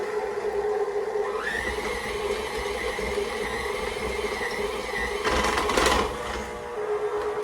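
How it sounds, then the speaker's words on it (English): A stand mixer with a paddle attachment whirs steadily as it spins cookie dough, a continuous motor hum with a rising tone as the bowl is lowered and a brief clatter near the end. "I always like to lower my mixing bowl while it's still spinning to try to get the stuff off the paddle"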